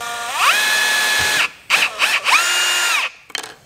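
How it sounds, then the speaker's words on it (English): Up close, a power drill fitted with a regular twist bit bores a hole for a Mk5 Toyota GR Supra shift knob or tug hook, in three whining bursts that rise and fall in pitch. "I'm going to start with a regular drill bit."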